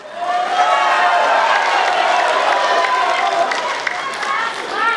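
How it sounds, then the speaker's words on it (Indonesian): Loud, sustained applause and cheering from a large audience at an Indonesian gubernatorial candidates' debate, filling the whole clip with dense clapping and a few whistles. "Tepuk tangannya boleh hadirin sekalian."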